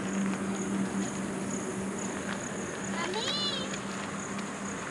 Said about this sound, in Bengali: দুপাশে ঝিঝি পোকার ডাক শুনতেই পাচ্ছ